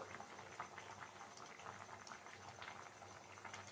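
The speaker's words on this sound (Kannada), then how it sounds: "ಆಮೇಲೆ ನೋಡಿ, ಮಸಾಲೆ ಎಲ್ಲ ಕುದೀತಾ ಇದೆ" Masala for a prawn and Malabar spinach curry bubbles in a pot, a faint, continuous simmering fizz with small popping bursts and no talk.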